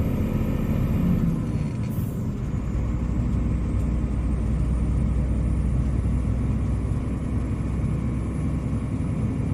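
A vehicle passes close by on a main road, its steady engine rumble and road roar loud and continuous, with a brief swell as it goes past.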